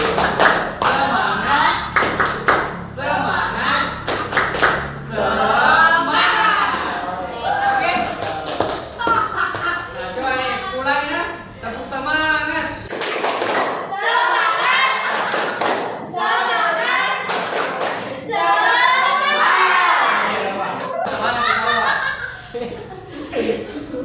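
A vocational high school class performs the rhythmic tepuk semangat spirit clap, with bursts of patterned group clapping and thumps mixed with chanting voices, chatter and laughter throughout.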